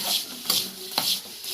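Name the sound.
stirring french fries with pepper and salt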